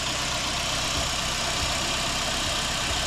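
A Toyota 1NZ-FE engine in a 2005 Toyota Succeed idles smoothly and steadily, a close, even mechanical hum and low rumble with no voices.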